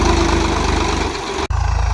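A tractor engine idles close by in a rural farm setting, with a steady low chugging rumble that drops out abruptly for an instant before resuming.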